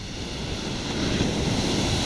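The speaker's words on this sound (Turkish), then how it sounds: "Dalgalar adeta teslim aldı." Sea waves wash steadily onto Kleopatra beach in Antalya, a loud, continuous rushing surf with some wind buffeting, and no voices.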